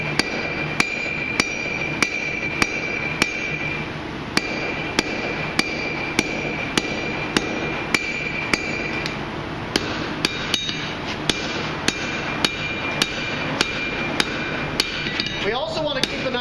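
Repeated hammer blows forging a hot Viking axe head on an anvil, sharp metallic strikes at a steady rhythm of roughly one or two per second, close and loud over a continuous workshop hum.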